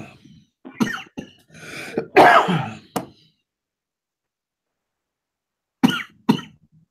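A run of harsh, chesty coughs and throat clearing, close up, followed by a pause of silence and then two more coughs.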